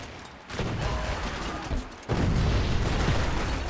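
Gunfire in the Max Payne 3 shooter game, a burst of loud close shots followed by a heavier sustained fusillade with rattling, rumbling reports.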